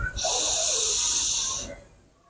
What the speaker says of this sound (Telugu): మళ్ళీ ఎడవ నాభితోటి పూర్తిగా గాలి తీసుకోవాలి